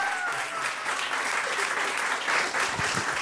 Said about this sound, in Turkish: Alkışlarınızla Seda Yüz geliyor.